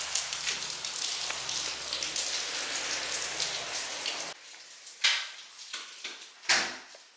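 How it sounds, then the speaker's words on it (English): Heavy rain pours down steadily in the Bahamas, a dense hiss that suddenly thins out, leaving a few sharp knocks and thumps nearby. "Yeah, it's pouring down now."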